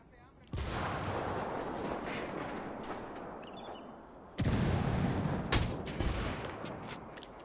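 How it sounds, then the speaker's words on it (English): Loud, sustained rumbling explosion blasts from a video game, a long roaring burst followed by a second sharper boom with crackling debris, while players talk over it. "here comes an explosion"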